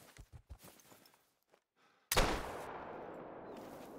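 A single loud hunting rifle shot in Call of the Wild, a sharp crack after quiet footsteps, followed by a long rolling echo that fades slowly.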